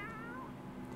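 A cat meows close by in one sustained, whiny call that lasts about a second, with a steady low background hum underneath.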